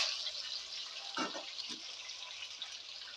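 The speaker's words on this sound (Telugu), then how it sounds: "ఇప్పుడు ఆయిల్ అయితే హీట్ వచ్చింది. ఇందులో టమాటా ముక్కలు వేసేసుకుందాం." Tomato pieces for a preserved tomato pickle hit hot oil in a pan, giving a steady close sizzle with a brief louder crackling burst as they drop in, no talking.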